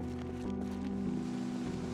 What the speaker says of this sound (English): In an interesting twist of fate, yes, you probably noticed, it is raining.